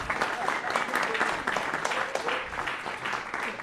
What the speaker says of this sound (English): So a big round of applause to Gwen Ansell.